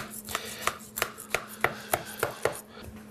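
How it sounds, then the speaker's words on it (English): A knife cuts through a vegan potato kugel with about eight crisp, evenly spaced chops onto a board, close and clear with no talk. "here's our kugel, potato kugel. Slicing, slicing, slicing, slicing, slicing."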